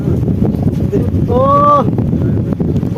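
Wind gusts across the microphone beside a river, a steady low rumble throughout the clip, with a short voiced exclamation near the middle.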